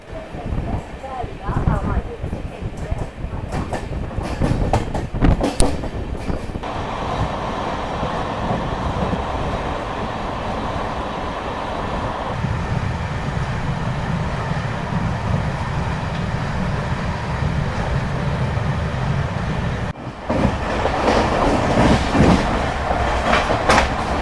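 Kamayani Express crossing past a moving Amrit Bharat sleeper train, a steady loud rumble and rattle of rail cars with clickety-clack running throughout, the roar briefly dipping then swelling again near the end; voices talk over it.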